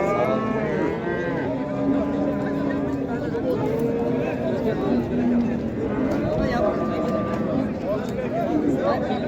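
Dairy cows low at a busy livestock market in Karshi, drawn-out moos rising and falling over a steady murmur of crowd chatter and nearby voices.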